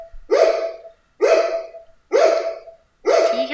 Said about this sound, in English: Can you hear the dog in the background?